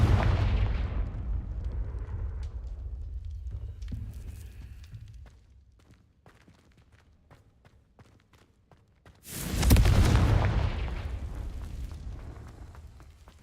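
Confringo fire spell blasts in Hogwarts Legacy, a heavy booming explosion that fades over several seconds, then a second loud fiery burst that trails off, with no talk.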